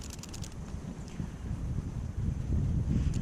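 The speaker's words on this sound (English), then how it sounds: "I think there's like 30-mile-an-hour winds out right now" Strong gusty wind of about 30 mph at a waterside fishing spot, a steady roaring rumble buffeting the microphone, with faint rustling over the top and no voices.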